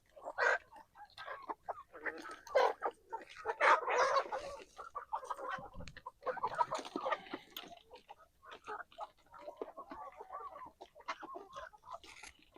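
Backyard chickens clucking and squawking nearby in irregular, overlapping calls around feed troughs, with no talking.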